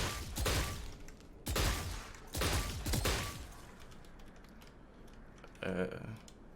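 Phantom rifle fire in Valorant, sounding as four sharp, loud reports spaced about a second apart, each with a ringing tail, followed by a softer mechanical clatter near the end.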